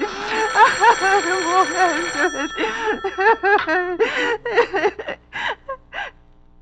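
A telephone rings steadily in the background of an old-time radio drama while a distressed voice talks over it, gasping and whimpering.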